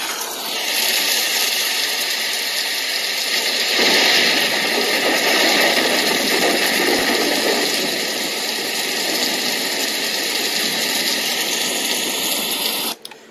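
Thunder setting on a six-sound white noise generator, giving a loud continuous roaring wash of noise that surges slightly early on before cutting off at the end, with no talking.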